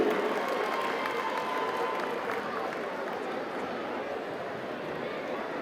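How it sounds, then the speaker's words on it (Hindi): A crowd at the opening of the Delhi Olympic Games 2024 gives loud, sustained applause to welcome the sports minister. The clapping is a steady, dense wash throughout. "एक बार जोरदार तालियां हो जाए सर के स्वागत में"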